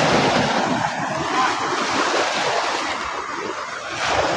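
Sea waves washing onto a beach at low tide in Balatan, Camarines Sur, a loud, broad rushing surf with gusty wind buffeting the microphone, swelling and easing without any voices.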